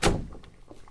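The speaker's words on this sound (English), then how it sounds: "Okay, close the door." A door closing in a horror video game, a single solid thunk at the start followed by faint rattling tail sounds, heard alone.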